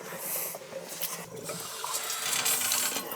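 A boiler's water feeder fills the tank, a faint rushing and trickling of water with small irregular splashes, heard close and without talk.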